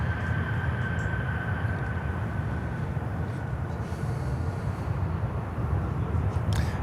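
A Delta Boeing 767-400 airliner at Miami airport gives off a steady, loud low roar of jet engines that holds constant throughout, with no voices.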